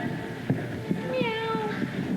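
A cat meow sound effect rings out during a school play, a few drawn-out wavering meows rising over a low murmur of background noise, with soft thumps scattered underneath.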